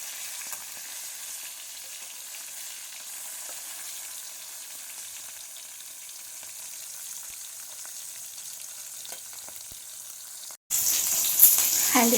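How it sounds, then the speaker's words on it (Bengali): Fish frying in hot oil in a kadai gives a steady, even sizzle for about ten seconds, then the sound cuts briefly before a louder, rougher burst of noise at the end. "তো মাছগুলো পরপর ভেজে নিই"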